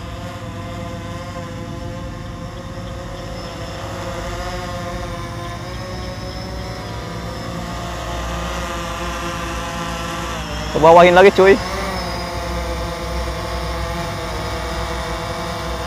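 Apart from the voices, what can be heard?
quadcopter drone hovering overhead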